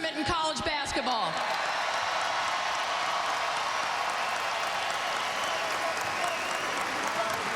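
A Madison Square Garden basketball crowd at the Big East Tournament final applauds and cheers in a broad, steady wash of clapping, following a few loud voice bursts at the start, with talk over it.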